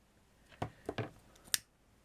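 Scissors snip a paper craft petal in a few quiet, crisp cuts, about four short clicks spaced over a second, close by and alone.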